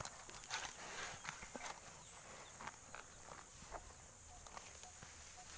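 Carabao (water buffalo) walking with a rider on its back, outdoors on a farm; soft irregular hoof thuds and footsteps at close range over a steady hiss of background noise, with no talking.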